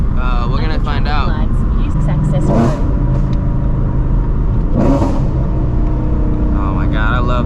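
A supercharged, cammed 1999 Mustang GT engine revs and downshifts loudly and close, with rising and falling engine notes under ongoing talk.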